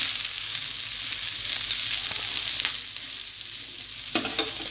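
An onion uthappam frying in an oiled pan just after being flipped, giving a continuous close sizzle with faint stirring and scraping sounds and a sharper crackle near the end.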